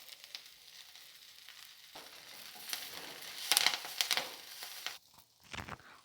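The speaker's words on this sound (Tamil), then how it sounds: "கருவேப்பிலையை வறுக்கும்போது இந்த மாதிரி படபடன்னு ஒரு சவுண்டு வரும்." Curry leaves fry in hot oil in a pan over medium flame, crackling and popping in quiet irregular bursts with a soft steady sizzle underneath.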